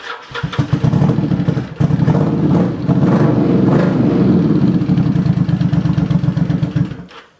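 Vulcan 750 motorcycle engine cranks briefly, catches and runs loud and close at a rough, uneven idle for several seconds before cutting off.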